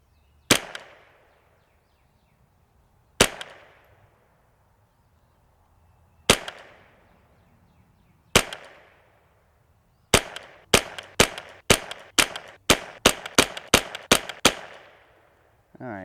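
A JPRFX semi-auto .22LR rifle fires Lapua long range ammo at the range, with sharp, isolated cracks at first and then a rapid string of about a dozen shots. The reports are close and crisp, with no talk.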